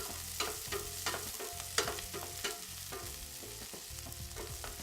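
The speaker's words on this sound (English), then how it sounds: "And add some scallions. Give it a little stir." Scallions frying in a pan while being stirred, a continuous crackling sizzle broken by repeated scraping strokes of the utensil, close and clear.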